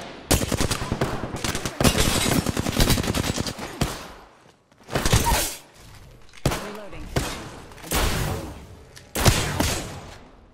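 Automatic gunfire from Apex Legends rattles out in several loud, rapid bursts separated by brief pauses, each volley dense and close.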